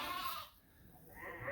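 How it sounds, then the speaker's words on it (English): Sheep on a farm, a ewe with her two small lambs, a short quiet bleat at the start followed by faint low noise, then another soft bleat rising near the end. "So that monster ewe right there gave 2 pathetic small lambs."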